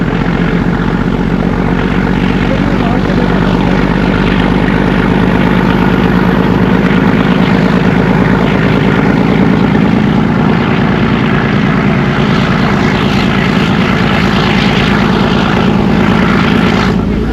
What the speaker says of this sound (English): the chug chug sound of the metre-gauge diesel engine